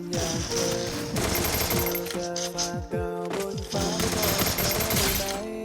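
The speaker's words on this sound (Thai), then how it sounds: "แม่งก็ยิงโคตรแรงอ่ะ" Sustained automatic gunfire from a shooter video game, loud and continuous, with rapid overlapping shots and tonal in-game effects layered throughout.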